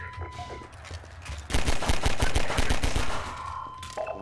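Rapid bursts of gunfire from a weapon in the video game Half-Life 2, a quick volley of sharp loud shots in the middle, preceded and followed by quieter game ambience.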